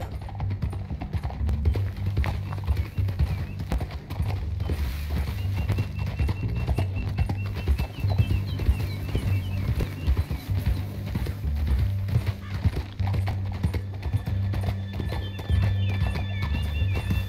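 Horse hooves clip-clop in a steady trotting rhythm in the video game Red Dead Redemption 2, with an occasional whinny, over a low rumbling background that runs the whole time.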